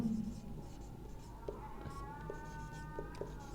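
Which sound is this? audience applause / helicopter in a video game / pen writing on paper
pen writing on paper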